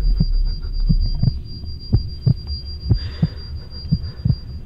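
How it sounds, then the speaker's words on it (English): Heartbeat sound effect played during a lie detector test, a loud close double-thump pulse repeating at a steady rhythm over a low hum, with no talking. "I see the heart beating out of that sweater."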